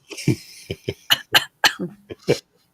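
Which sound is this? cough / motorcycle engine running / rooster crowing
cough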